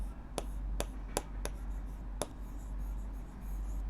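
Chalk or marker tapping and scratching on a classroom board as a number is written, a handful of sharp clicks spaced unevenly over low room hum, fairly quiet and with no voice.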